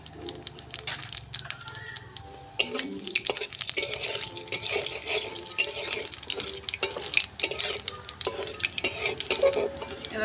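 Bay leaves, dried chillies and whole cumin sizzle in hot oil over a village mud oven, a steady close crackle broken by stirring clatter and scraping against the pan.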